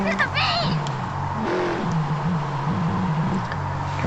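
Race cars of a supercar exhibition grid, including a 2018 Ford Falcon FG X, droning past at Suzuka in Real Racing 3: a steady engine whine with rising and falling pitch, and someone talking over it.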